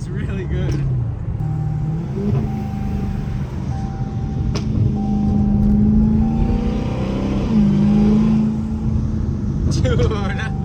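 A Hellcat car engine on a test drive gives a loud, steady low drone whose pitch climbs and dips as the revs rise and fall, with people talking over it.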